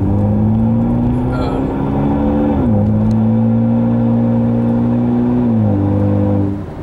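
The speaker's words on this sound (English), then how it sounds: "Still really happy with the exhaust sound. I love the little burp it gives on upshift." Car with an aftermarket exhaust revving hard through the gears, the engine tone climbing and dropping at each upshift with a short burp, loud and close throughout.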